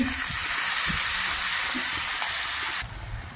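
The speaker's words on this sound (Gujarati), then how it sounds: "બે મિનિટ આપણે તેલના અંદર ભાજીને સાતળી લેવાનું છે" Chopped leafy greens sautéing in hot oil with cumin, asafoetida and chillies, a dense, close crackling sizzle with faint stirring knocks, settling slightly quieter near the end.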